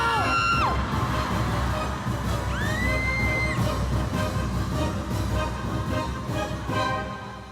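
A studio audience at a Filipino television game show shouts together loudly and continuously, with whoops and cheers rising and falling before the noise eases off at the end.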